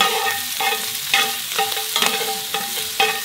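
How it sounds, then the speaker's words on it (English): Chopped garlic sizzling in brown butter in a pan, stirred in rhythmic strokes. A steady fry is broken by repeated scraping clinks at regular intervals, close up, with no talking. "we put in the chopped garlic"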